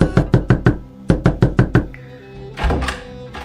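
Knocking on a door that will not open: two rapid series of five firm, close knocks each, followed by a muffled thud and scraping rattle.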